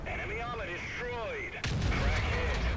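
Tank cannon firing in a tank video game, one sudden heavy boom that cuts in midway and rumbles on, with whining engine and game tones before it and a voice talking over it.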